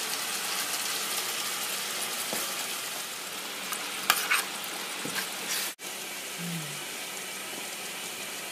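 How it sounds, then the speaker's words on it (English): Mutton meat mixture sizzles and fries steadily in a pot for biryani, with a few soft stirring scrapes and clinks against the continuous close sizzle. "Now we add the mixture to a pot and we cook the meat until it is soft."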